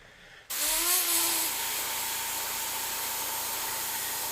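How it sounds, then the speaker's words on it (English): An airbrush sprays solid paint over metal for a bullet-hole effect, cutting in abruptly after a moment of quiet with a brief rising whine, then a steady, close, airy hiss that continues unbroken. "I'm just going to spray it solid."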